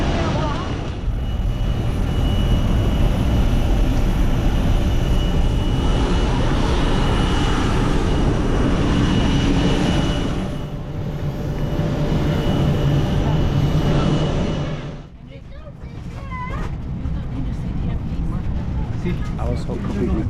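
Loud, steady roar of British Airways airliner engines heard from inside the cabin on the takeoff run, a broad continuous rumble with a brief dip near the end.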